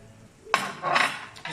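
A utensil scrapes and clinks against a pot as masala is stirred into a Christmas chilli paste, with a few short metallic strokes close by and no voices.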